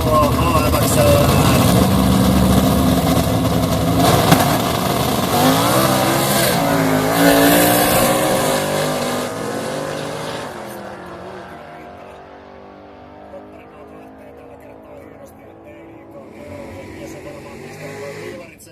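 An AMX race car on an airfield track at a street racing event in Seinäjoki revs loudly near at first, engine whine rising and sweeping, then fading into the distance; a commentator talks over it.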